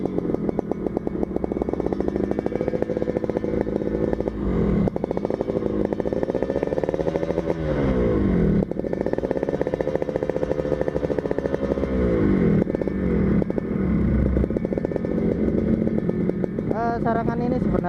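A two-stroke motorcycle fitted with a 2.5 mm exhaust revs repeatedly, rising and falling in a raspy, buzzing wail that stays loud and close throughout, with no voices over it.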